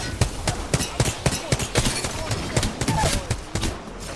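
Gunfire in a video game, a steady series of sharp shots roughly every third of a second, loud and close, with a few brief game effects in between and no talk.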